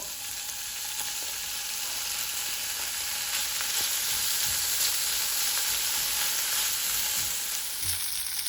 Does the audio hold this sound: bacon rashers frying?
yes